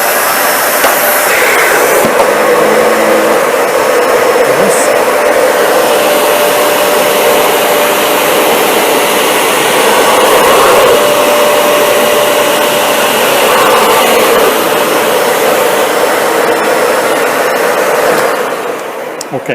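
A Dyson Ball Animal 2 vacuum cleaner runs over carpet with a loud, steady motor whine and airy roar that holds unbroken for nearly twenty seconds before tapering at the end.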